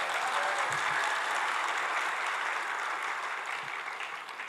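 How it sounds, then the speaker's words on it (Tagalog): A church congregation claps loudly in a sustained, even burst of applause that carries on unbroken and fades slightly toward the end. "Pumalakpak ng malakas"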